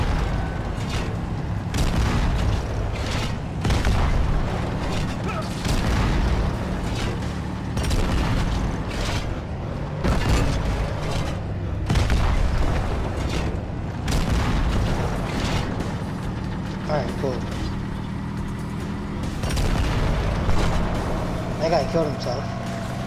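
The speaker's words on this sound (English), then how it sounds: "I'll try to blow up the tanks right now." Tanks blowing up in the Halo 2 Anniversary co-op campaign: steady, loud rumbling explosions and booms run throughout, mixed with vehicle and battle noise under frequent talking.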